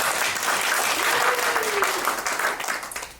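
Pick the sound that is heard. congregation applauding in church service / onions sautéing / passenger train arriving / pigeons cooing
congregation applauding in church service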